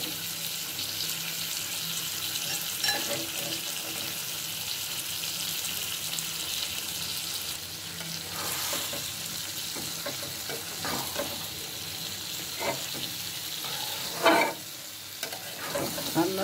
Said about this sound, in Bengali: আর এখন আমি শুটকিগুলো দিয়ে দিচ্ছি